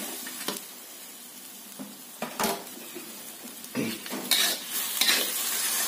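Chili, sugar and tamarind being stirred in a hot pan for pindang asam kemangi, a steady sizzle under scraping utensil strokes that grow louder and more frequent toward the end, with no talk.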